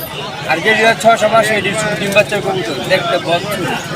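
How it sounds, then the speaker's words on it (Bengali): Many pigeons coo in repeated, overlapping throaty rolls at a busy pigeon market in Fatullah, Narayanganj, with people's voices murmuring in the background. "এগুলো কিন্তু ভালো মানে কবুতর"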